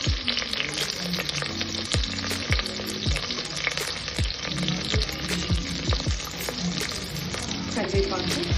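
Thinly sliced onions frying in a pan for paneer biryani, a dense continuous sizzle with frequent crackles and spatula scrapes, close and fairly loud over a soft musical backing.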